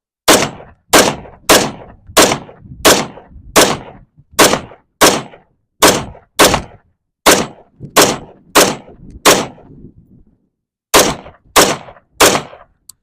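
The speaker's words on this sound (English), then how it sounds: "now I'm gonna go shoot that triangle" Rifle fitted with a Feyachi V90 red dot fires about sixteen loud, sharp single shots at steady intervals on a steel target range, with a short pause before the final three.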